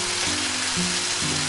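Beef and rice noodles with oyster sauce, soy sauce and sesame oil crackle in a hot wok, a loud continuous sizzle broken by a few short stirring bumps, with no voices.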